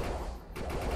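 Dense automatic gunfire from the sci-fi shooter Defiance, a loud, tightly packed burst of shots with a brief dip partway through.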